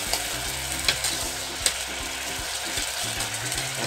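Ingredients sautéing in a hot pan for a Hong Kong–style hot pot: continuous crackling sizzle with a couple of sharp utensil knocks and scraping stirs, close and fairly loud, no talk.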